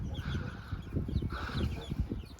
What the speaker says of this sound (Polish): A to jest kogucik.